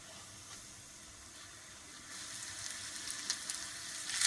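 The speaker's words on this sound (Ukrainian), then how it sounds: "А сковорідка розігрілась тим часом і викладаємо рибку" Faint frying sizzle begins quietly, then grows louder and crackly partway through as perch hits the hot pan; no voices.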